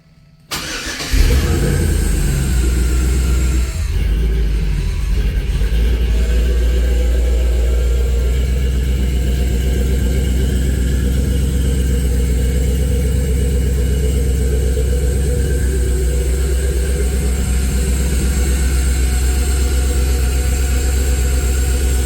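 Chevrolet Corvette C3 restomod engine cranking and firing up about one second in, then settling into a steady, deep rumbling idle that stays close and loud with no voices.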